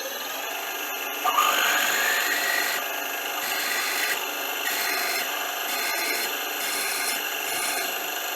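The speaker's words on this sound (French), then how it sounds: "Donc on va essayer de tarauder, comme j'ai dit, pas trop profond." A tap grinds and rasps steadily as threads are cut into medium-hard steel, a continuous close scraping with a brief higher squeal near the start.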